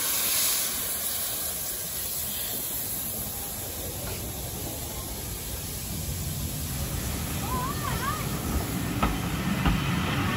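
A steam locomotive on the North Yorkshire Moors Railway rumbles and hisses past steadily at close range, with a brief whistle-like warble near the end and no talking.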